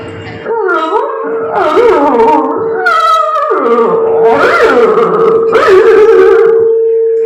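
At a kindergarten arts festival, a human voice imitates a dog's reaction, with loud, continuous howls, wails and whimpers rising and falling close to the microphone.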